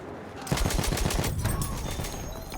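Rapid bursts of M1909 Benet-Mercie machine gun fire in Battlefield 1, set in the Sinai Desert, rattle out loud and close in a fast, continuous string of shots.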